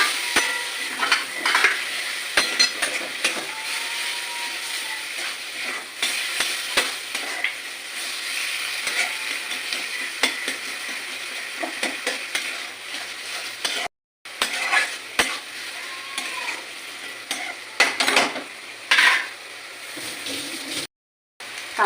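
Spice paste with potatoes and a little water is stirred and fried in a pan, a steady soft sizzle under repeated scraping and clinks of a spoon against the pan, close up and without voices.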